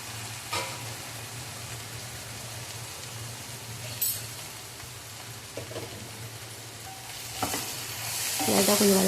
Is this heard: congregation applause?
no